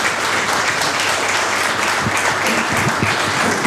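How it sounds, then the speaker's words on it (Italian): Sustained audience applause fills a political campaign event supporting a candidate, a dense, steady clapping wash that runs unbroken and loud throughout. "il vostro applauso sottoscrive e rilancia"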